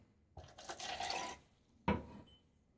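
A shaving brush is wetted under running water, heard as a close splashing stream lasting about a second, followed by a short sharp splash. The sound is faint, with no talking.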